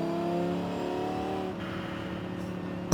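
Engine-swapped turbocharged SUV with a racing transmission in Forza Horizon 5, cruising on the road low in the revs. A steady, loud, harmonic engine drone holds throughout, with a sharp burst right at the end.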